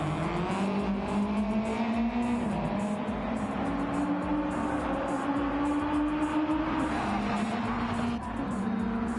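A Subaru WRX race car in Gran Turismo 7 drones loudly and steadily, its engine pitch climbing and dipping through gear changes with faint tire squeal, with no talking over it.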